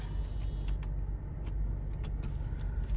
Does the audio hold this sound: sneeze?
no